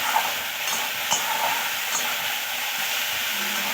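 Onion, ginger and garlic stirring and frying in a pan: steady close sizzle with scraping spatula strokes and a few sharper clinks, no voices.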